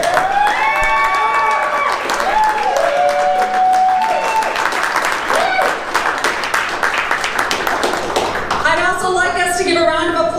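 An audience at a haunted attraction award presentation applauds and cheers loudly throughout, with a voice speaking over the crowd and a few whoops rising near the end.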